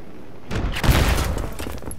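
A tank fires in Battlefield 3 with one heavy, booming blast that rumbles and fades for about a second amid ongoing game noise, with no talking.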